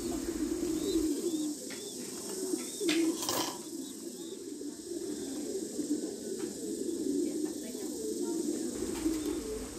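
Pigeons at a pigeon farm coo in low, repeated calls close by, with a few scattered chirps over a steady background hiss.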